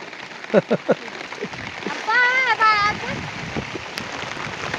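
Heavy monsoon rain falls on travellers moving with horses near Mahad, a steady loud hiss that runs throughout, with a few sharp knocks and voices in the background.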